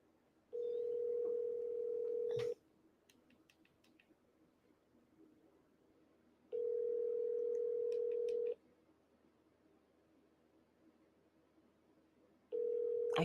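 Steady telephone dial tone in three separate bursts of about two seconds each, split by quiet gaps holding faint clicks and beeps as a call is attempted.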